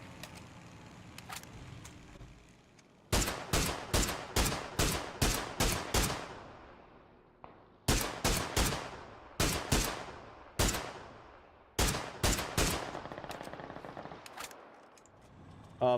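Machine-gun fire from an MG in PUBG, delivered in rapid bursts of sharp, loud shots, several volleys separated by short pauses over a steady engine-like drone, with no talking.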